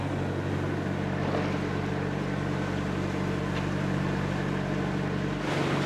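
A boat engine running smoothly near Turtle Key, a steady low mechanical drone with water and hull noise, constant and fairly close throughout, with no talking.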